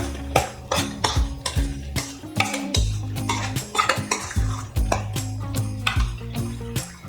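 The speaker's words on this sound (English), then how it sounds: "We're gonna mix that up, your crackers and your soup." A spoon clinks and scrapes in a bowl while crackers are mixed into soup, giving a string of close, rhythmic knocks and taps over a low background hum.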